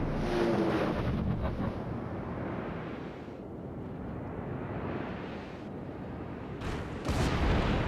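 Heavy naval guns from a warship's main battery fire in a video game, a sustained loud roar of broadband blasts and rumble that swells again near the end, with no voices over it.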